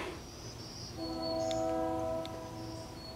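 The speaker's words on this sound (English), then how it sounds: "That was the sound of another ferry." A ferry horn sounds on Mackinac Island, a steady tonal blast rising out of outdoor street ambience, moderately distant, holding for about a second and a half before fading back into the background.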